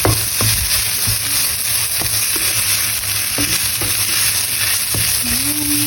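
An egg fries in a pan with a loud, steady sizzle and crackle, close up, with occasional soft taps and scrapes of a utensil.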